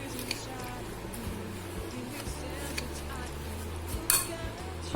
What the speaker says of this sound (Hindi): अब हमने इसको मिक्स करना है, इसको मिक्स कर लेना है